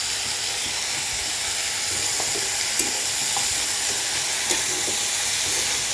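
Potatoes and greens being stir-fried in a pan, a steady bright sizzle throughout with occasional scraping and clinking of a spatula stirring the mix, close and without talk.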